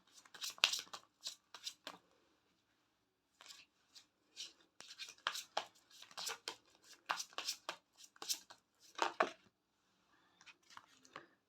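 Oracle angel cards shuffled by hand, a series of crisp riffling bursts in short irregular runs with brief pauses between them, close and fairly quiet, with no speech.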